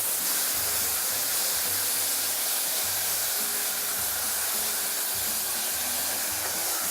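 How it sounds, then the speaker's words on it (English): Chopped tomatoes hit hot olive oil with garlic in a pan, giving a loud, continuous broad sizzle and hiss that stays steady throughout. "Now we add a cup of chopped tomatoes."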